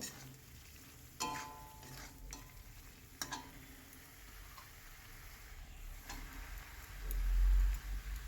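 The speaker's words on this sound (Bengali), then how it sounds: "ভেজে রাখা আলুটা দিয়ে দেবো আলুটা দিয়ে মশলাটাকে কষিয়ে নেব" Fried potato pieces and spice paste sizzling gently in a pan, with intermittent stirring scrapes and a few sharp clicks of the spoon against the pan, steady low frying underneath.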